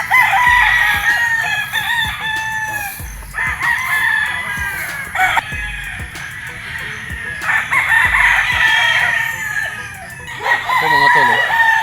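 Pure white kelso gamefowl roosters crowing at a game farm breeding pen, several loud overlapping cock-a-doodle-doos close by with clucking between them, one after another through the whole stretch.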